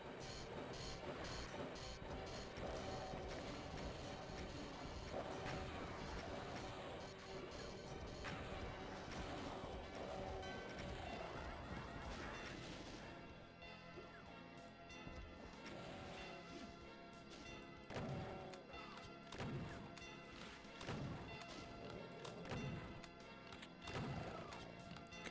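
Rocket launcher explosions in Doom, with heavy blasts and crashing impacts firing in quick succession over loud, continuous game music, growing more clipped and punchy in the second half.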